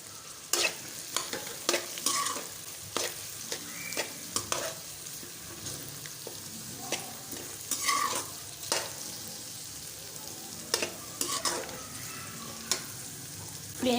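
Boiled peas and rice for chicken and vegetable fried rice fry in a pan on high flame. A low sizzle runs under frequent sharp spatula scrapes and taps at an irregular pace. No one talks.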